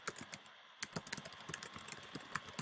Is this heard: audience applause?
no